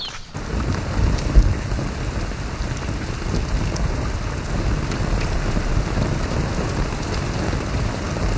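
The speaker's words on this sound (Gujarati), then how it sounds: "વાવાઝોડું અને વરસાદ આવે છે" Steady heavy rain pours throughout with deep rumbling thunder underneath, a broad continuous storm roar with a brief louder crack near the start.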